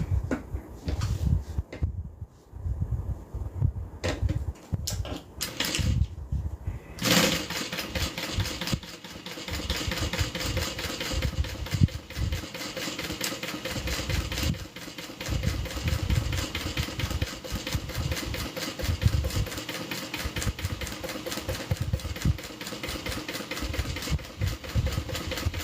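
A sewing machine stitching a seam on a custom order, with a continuous, fast mechanical whirr and rapid needle chatter that kicks in after a few seconds of quieter handling noises and then runs steadily.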